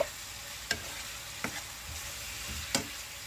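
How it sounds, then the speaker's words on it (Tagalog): Diced pork stirred in a frying pan for adobong sitaw gives a steady sizzle, with a few sharp clanks of the spatula against the pan at irregular moments. "halo-halo lang po natin hanggang maluto yung ating pork"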